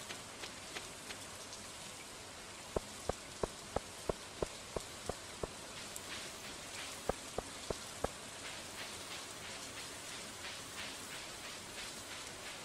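Steady rainfall in the video game Stardew Valley, a soft continuous patter with sharp, evenly spaced clicks and taps running through it, and no voices.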